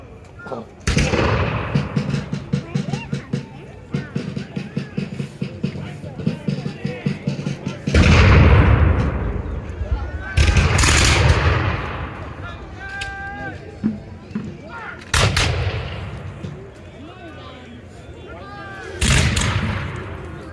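Battle reenactment at Guilford Courthouse, with British and American forces trading musket volleys and artillery fire: loud repeated cracks and heavy booms in bursts, echoing across an open field, with a voice talking over parts of it.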